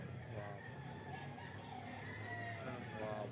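Bull stag gamecock crowing at a rooster sale, a drawn-out crow with steady farmyard background noise and a faint second bird.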